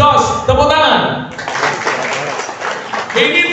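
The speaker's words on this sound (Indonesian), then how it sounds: "jos, tepuk tangan." An audience at a religious lecture and the opening of a Qur'an memorization dormitory in Ponorogo breaks into a short burst of applause that swells after a spoken phrase and then fades.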